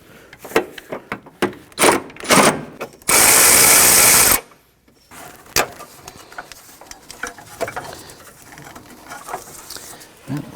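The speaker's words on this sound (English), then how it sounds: "I'm going to remove this 10mm bolt here." A hand ratchet wrench clicks in quick bursts while backing out a 10mm bolt near a 2009-2015 Honda Pilot engine mount. Close, dry ratcheting comes in short runs, and a loud steady noise burst cuts in partway through.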